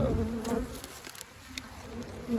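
Honeybees buzz steadily around open hives being split, a dense droning hum that stays close and continuous with small rises and dips in intensity.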